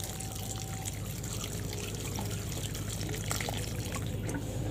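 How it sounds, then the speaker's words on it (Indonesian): Water trickles and pours onto plant growing medium during gentle watering, a faint, steady splashing and dribbling close by. "Setelah itu kita siram media tanamnya ya."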